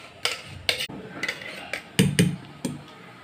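A metal stand and an oiled tin set down inside a pressure cooker for making dhokla, a series of sharp close metallic clanks and knocks spaced irregularly over a few seconds, with no talking.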